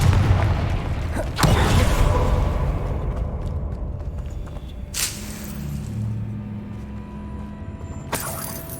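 A Confringo fire spell blasting in Hogwarts Legacy gameplay, a loud booming impact up front followed by rumbling debris and a few more sharp bursts later.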